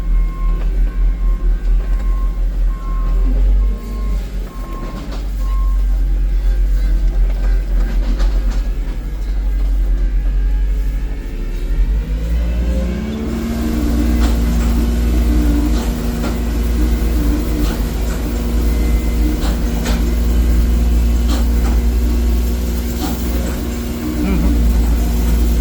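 Tractor-driven straw blower roaring loudly on a cattle farm, a heavy low rumble with a rising mechanical whine as the machine spins up midway, continuous and close, with someone talking under the noise.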